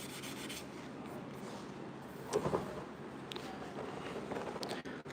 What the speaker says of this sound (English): Yep, we still sanding.